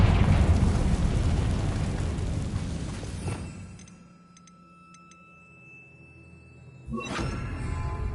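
Spell blasts from Bombarda and Confringo in Hogwarts Legacy: a loud, dense explosive rumble fades into a quiet stretch with faint ticking and a thin tone, then a second sharp, near blast bursts in at the end.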